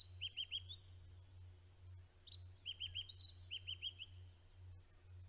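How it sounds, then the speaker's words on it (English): A white-browed scrub robin sings at sunrise, short bursts of three or four bright, clear whistled notes repeated in phrases, fairly near and distinct over a steady low hum, with no talking. "That is the white browed scrub robin that we can hear singing."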